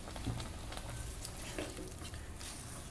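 Tempeh with chicken liver and gizzard simmers in coconut milk in a pan, giving a steady soft bubbling sizzle with faint stirring clicks, close and quiet with no voices.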